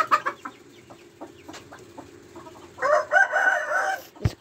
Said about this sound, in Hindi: ये देखें नई मुर्गियाँ हैं।